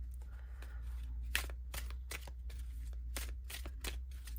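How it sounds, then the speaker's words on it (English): Glossy oracle cards being overhand shuffled, a quick series of crisp, sharp riffling slaps in uneven bursts, close and fairly quiet over a low steady hum. "a little overhand shuffle with it."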